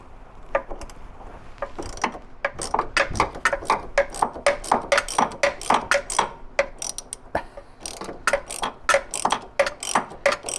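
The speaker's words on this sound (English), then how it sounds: "Time to put the wrench in." A ratchet wrench is worked on the steering coupler of a C3 Corvette with a Chevy 5.7 engine, giving a rapid run of sharp metallic clicks in uneven bursts, close and clear.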